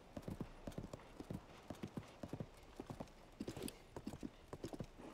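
Hooves of a horse galloping in Zelda: Tears of the Kingdom, a steady rapid clip-clop rhythm of hard, close thuds that runs throughout, with no talk.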